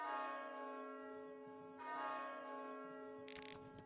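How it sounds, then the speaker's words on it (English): A church bell tolls inside the horror game Fear & Hunger 2: Termina, two resonant strikes ringing out with long humming decay over a quiet backdrop. "I heard a church bell."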